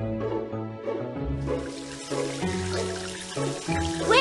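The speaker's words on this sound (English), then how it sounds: "Now you'll need to wash off all those bubbles with water." Water being poured to rinse bubbles off a puppy in a video game, a bright trickling pour sitting over cheerful game music that carries on throughout.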